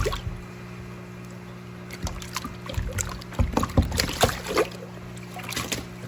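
Water sloshes and splashes in bursts as fish are scooped out of a transport tank with a little salt added, irregular wet splashes growing busier toward the end over a steady low background hum.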